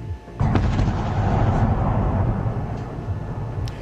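Wartime Kyiv under bombardment, a sudden deep rumbling boom that swells into a long, heavy, low roar of artillery and explosions, loud and sustained, with faint higher clatter and no speech.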